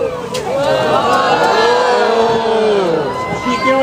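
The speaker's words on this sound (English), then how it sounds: "I want to hear whoa really loud" A beach-show crowd shouts a long, loud, sustained "whoa" together, the massed voices swelling and sliding in pitch for several seconds, close and continuous.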